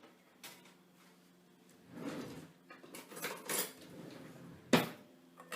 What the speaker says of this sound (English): Let me just get another knife because this is not gonna work for me.